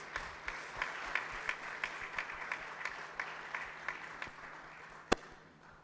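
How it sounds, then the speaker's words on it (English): Audience applause at a closing ceremony: faint, sparse clapping with an even, rhythmic beat, a few hands in near unison, ending with one sharp louder clap. "So a round of applause for you guys."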